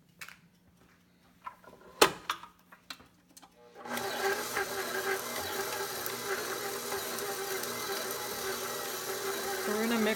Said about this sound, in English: we're gonna mix our butter